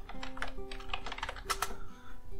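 Rapid typing on a computer keyboard, a quick burst of crisp key clicks in an uneven rhythm, close and clear with no talking.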